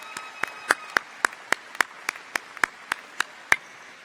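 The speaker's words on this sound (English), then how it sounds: "Graduates, please join me in a round of applause for those who have loved and supported you on this journey" A few sparse, distinct hand claps at a University of North Georgia commencement, individual claps spaced irregularly about every quarter second over a quiet hall background, close and crisp rather than a full crowd ovation.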